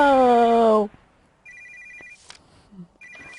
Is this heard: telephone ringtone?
yes